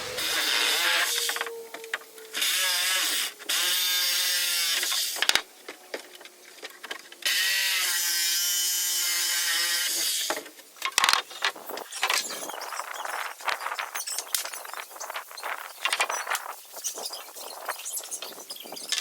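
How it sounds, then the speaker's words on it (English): A reciprocating saw (Sawzall) cutting free cedar deck boards held by strip screws, loud buzzing bursts of several seconds each, then choppier rapid cuts with knocks and clatter, close by with no talk. "So I'm going to get at them and cut those boards free using my Sawzall."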